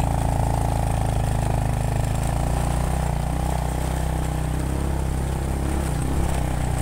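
A steady, loud engine drone from a standard motorcycle with modified gearing, climbing a steep forest road on the Ciangkrong incline in Garut, running continuously with no break.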